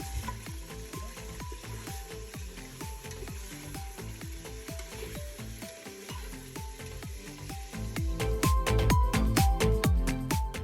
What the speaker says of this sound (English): I added half a cup of oil and 8 pieces of lamb shoulder in my pressure cooker